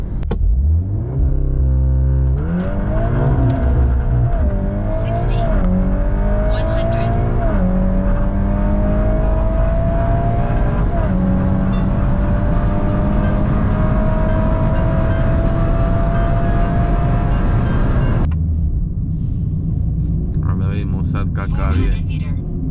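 A stage 3 VW Golf 8 R on a stock engine with a Garrett turbo and about 500 hp accelerates hard on a drag run. The engine note climbs through several gear changes, then lifts off, with someone talking over it.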